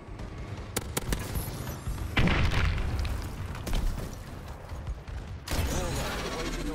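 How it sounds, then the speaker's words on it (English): Bombing-run explosions in the video game Call of Duty: Advanced Warfare, several heavy booms and rumbling blasts in quick succession over a few seconds, loud and close, with some speech mixed in. "Bombing run clearing the way."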